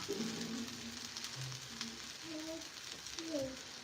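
Uttapam frying in a pan, a soft continuous sizzle held at low volume, with people talking quietly over it.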